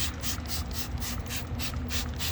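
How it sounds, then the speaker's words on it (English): Brake cleaner sprays from a can onto the wheel of a BMW E46 M3 in a steady, hissing spray with a faint pulsing texture. It sounds close and continuous, with no talk. "just a simple spray."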